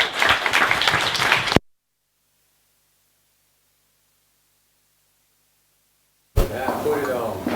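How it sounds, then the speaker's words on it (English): An audience applauds a presenter at a sustainability and design evening in Eindhoven: a dense burst of clapping that cuts off abruptly into silence, then returns with loud crowd noise and voices. "I think it's good to give him a well-deserved warm applause."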